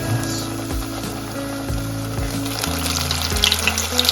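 Breadcrumbed food drops into hot frying oil and sizzles with a continuous crackling hiss, up close, with a bubbling sound underneath.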